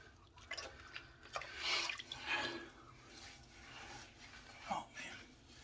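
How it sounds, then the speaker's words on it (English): Shaving lather being rinsed off a face with water after a shave: soft, intermittent splashes and drips, quiet and close, with gaps between scoops of water. "let's get some of this lather off the face"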